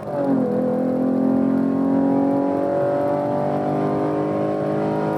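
A Chevy Camaro RS with a V6 on a short gear set, revving hard under acceleration; a steady, loud engine drone whose pitch climbs briefly then holds high, heard from inside the car without talk.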